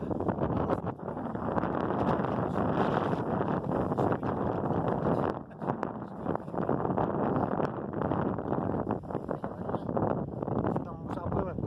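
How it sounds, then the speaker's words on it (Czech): Strong wind buffeting the microphone while riding a 750W e-scooter uphill and downhill near Náchod, a loud continuous rushing roar with someone talking over it throughout. "když je fakt sakra vítr"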